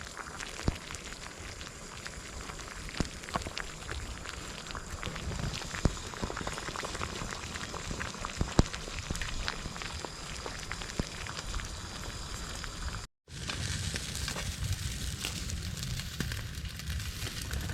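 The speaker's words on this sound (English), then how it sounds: "as you can see, the water is at a rolling boil" A pot of water boils at a rolling boil over a campfire, a steady rain-like bubbling and crackle up close, with a brief dropout partway through and no speech.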